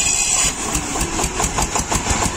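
The 15-horsepower engine of a homemade mini K700 tractor runs steadily up close, a loud, continuous rough chugging with a quick, even pulse and no talk.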